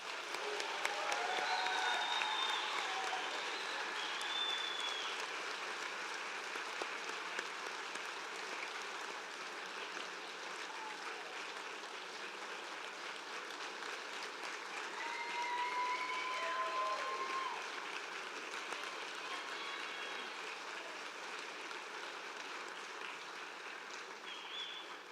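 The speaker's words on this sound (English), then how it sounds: "let's give one final round of applause for our graduates" Sustained audience applause for nursing graduates at a ceremony, a dense steady wash of many hands clapping across a large hall, swelling slightly midway and continuing for the whole stretch.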